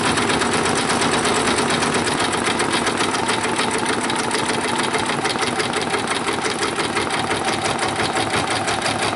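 An embroidery machine set to 800 stitches a rain jacket hood, a loud, continuous rapid needle chatter with an even mechanical rhythm throughout.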